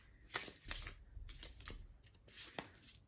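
Tarot cards being shuffled at a close distance, with a series of soft riffling swishes and light papery slaps arriving in irregular bursts across a quiet room.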